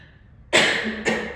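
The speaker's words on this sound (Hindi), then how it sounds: "इस खांसी को ये आना है" A single sharp cough bursts out after a moment of near silence, followed quickly by a second, shorter cough.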